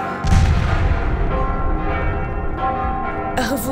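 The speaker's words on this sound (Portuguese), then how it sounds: "Toquem os sinos, que toquem todos os sinos." Church bells ringing together during a revolution celebration in Porto, Portugal, a loud, dense wash of overlapping tolls with booming low strikes, continuing steadily throughout with no voices.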